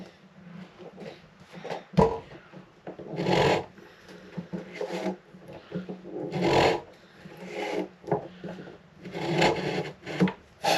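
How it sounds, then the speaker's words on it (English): Sandpaper rubbed against the neck joint of a Martin D-45 '42 Authentic acoustic guitar gives a series of close, rasping back-and-forth strokes in bursts, separated by short pauses and light handling knocks, with no talking. "So I'm going to take 3 more swipes of sandpaper."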